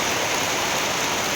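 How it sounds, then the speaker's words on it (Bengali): Steady rain falls as a dense, even hiss, loud and close, with no voices. "খুব সুন্দর বৃষ্টি হচ্ছে।"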